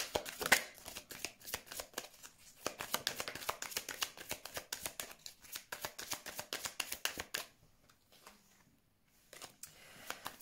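Tarot cards are shuffled by hand for a card reading, with quick, soft, riffling flutters in uneven bursts, close and fairly quiet, then a brief pause and a few more light shuffles.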